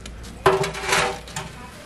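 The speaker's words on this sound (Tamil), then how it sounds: "சிக்கன் பிரியாணி தாளிக்க சட்டி அடுப்புல வச்சிடலாம்." A cooking pot set down on a stove for chicken biryani tempering gives one sharp metallic clunk with a short ringing tail, then faint kitchen clatter follows.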